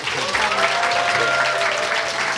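Audience applause fills a small theater at the close of a comedian's performance, steady clapping from a modest crowd sustained throughout without a break.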